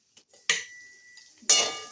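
A metal spoon scrapes and clinks twice in a kadhai while walnuts, melon seeds and garden cress seeds are sautéed for winter fenugreek laddus, each stroke a short, close, bright scrape with a quiet pause between.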